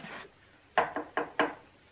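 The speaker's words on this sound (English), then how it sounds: "There's someone at the door." A short sequence of four crisp knocks on a wooden door, fairly close and isolated, after a brief muffled sound, in an old war-era film scene.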